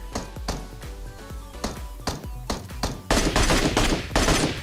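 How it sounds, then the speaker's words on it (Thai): Rapid gunfire in the mobile battle royale game PUBG Mobile: a string of distinct sharp shots at first, then a denser continuous burst, all loud and close with no talk. "ยิงรัวๆอย่างนี้เลย"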